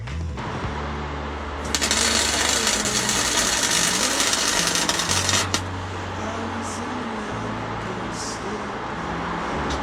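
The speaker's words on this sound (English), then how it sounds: "can I weld these together without blowing the shit out of them, which I'm prone to do with this really thin material" Thin metal headlight brackets for a Suzuki GS500 are welded in a shed, giving a steady harsh buzzing crackle with a louder stretch in the middle, close and continuous, no talking.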